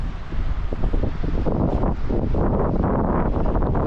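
Strong wind buffets the microphone at an exposed coastal wild camp, with a steady, loud roar and gusty surges throughout, and no talking.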